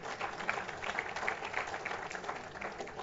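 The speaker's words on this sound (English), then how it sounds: "just a few light applause from this side" Light, scattered applause from a small portion of a conference audience at a transport awards event, a thin patter of claps held at a steady moderate level for about three seconds.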